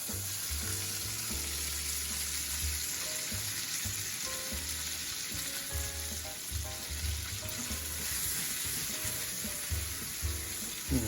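Chilean sea bass cooks in a pan, a steady close sizzle and crackle running the whole time with a low hum underneath, no one speaking.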